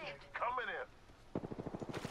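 A rapid run of gunshots during an Apex Legends firefight, fired in quick periodic bursts after a brief voice-like sound, fairly faint and close together.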